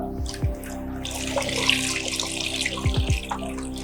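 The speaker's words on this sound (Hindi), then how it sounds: "तो एक कच्चा प्लास्टर को अब इसको हमने पानी में डाला" A raw plaster bandage being dipped and worked in water, with splashing, sloshing and a few quick gurgling bubbles under a steady tonal hum, close by and moderately loud.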